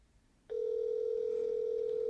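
A steady electronic phone ringing tone, coming through a Ticwatch Pro 3 Ultra GPS smartwatch, starts abruptly after a brief moment of quiet and holds at an even, loud level to the end.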